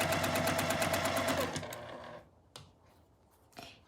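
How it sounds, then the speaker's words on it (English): Sewing machine stitching quilt squares with a 1/4 inch seam, a fast steady mechanical hum close by for about two seconds before stopping, followed by a couple of faint handling clicks. "you're gonna start sewing with your 1/4 inch seam"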